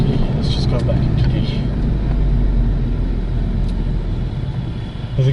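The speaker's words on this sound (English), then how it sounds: "the exhaust is definitely a bit soft. It's not that loud really." A VW Golf GTI Mk7 in sport mode makes a steady low exhaust drone and road rumble from inside the moving car, with people talking over it.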